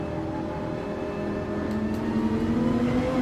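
Dodge Viper Gr.4 engine in a racing video game on the Dragon Trail Gardens track, a loud, close, continuous engine whine that climbs gradually in pitch.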